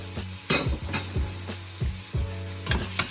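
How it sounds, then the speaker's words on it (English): About four cloves of chopped garlic and an onion and a half sizzle in a hot pan, a steady frying hiss broken by repeated scraping strokes of a utensil stirring against the pan, close and without voices. "we're gonna go in with our garlic. We got about 4 cloves there, an onion and a half that I chopped up"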